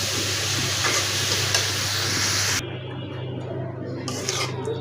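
Bitter gourd and potato with shrimp frying in oil, a loud dense sizzle with stirring scrapes close up, dropping to a quieter hiss partway through, no talk.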